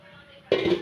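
A pot lid is set down over a simmering fish curry, making a sudden clatter partway through that gives way to a brief metallic ring after a quiet stretch.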